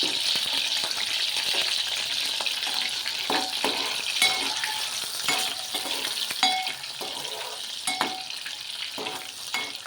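Fish pieces fry in hot oil for fish curry with drumstick and mango, giving a steady, close sizzle with scattered pops and crackles that run continuously with no voices.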